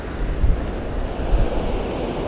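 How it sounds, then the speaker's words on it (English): Ocean waves washing onto a sandy beach, a steady broadband roar with two soft swells, with wind buffeting the microphone and no voices. "just walking along the beach, just listening to the waves"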